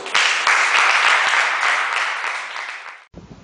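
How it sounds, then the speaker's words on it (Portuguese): A church congregation applauds together in a dense, sustained burst of clapping that fades slightly before cutting off abruptly near the end. "Aplauda o Senhor Jesus"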